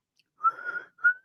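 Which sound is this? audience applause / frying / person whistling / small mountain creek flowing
person whistling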